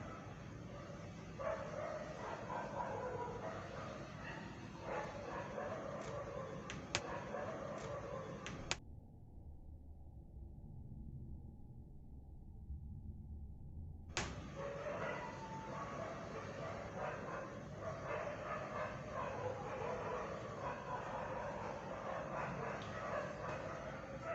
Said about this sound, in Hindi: कुत्ते भौंकना स्टार्ट हो गए।